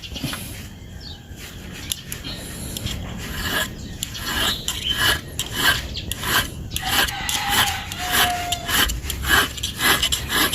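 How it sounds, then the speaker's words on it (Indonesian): A metal file rasps the jaws of bonsai pliers flat in steady, repeated strokes, close and fairly loud, with scraping growing more rhythmic as it goes and no talking over it. "ini diratakan dengan kikir saja biar cepat"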